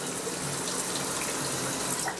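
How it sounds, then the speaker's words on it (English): A shower tap runs in a steady, close rush of water, a continuous splashing hiss throughout, while a pet monkey is bathed. "Why don't you turn the water off"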